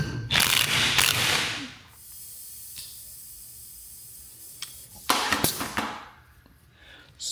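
Two loud, rattling bursts of a pneumatic impact wrench tightening a fitting on a Bobcat, hammering close by, separated by a quieter hiss of air between them.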